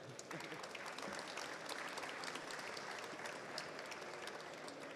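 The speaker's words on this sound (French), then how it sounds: "Alors déjà, on va les applaudir." Quiet applause from the audience at a French marine and nuclear workshop session, an even, sustained patter of many hands clapping that sounds somewhat distant and continues steadily throughout.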